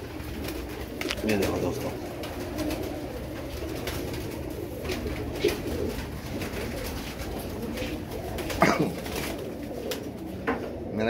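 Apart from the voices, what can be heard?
pet pigeons cooing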